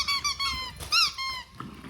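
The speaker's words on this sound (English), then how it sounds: "oh my God, squeaky toys." A dog's squeaky toy squeaks several times in quick bursts, high and piercing, with one louder squeeze near the middle and soft handling noise between.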